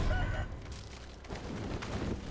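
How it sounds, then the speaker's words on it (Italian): Roosters squawk and cluck in a fighting scene from the video game Sekiro, their calls sitting under a dense, steady wash of game noise at moderate level throughout. "sono semplicemente galli da combattimento e quindi combattono"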